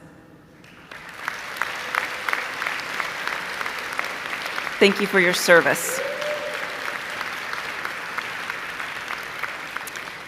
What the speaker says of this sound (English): please join me in a round of applause for our veterans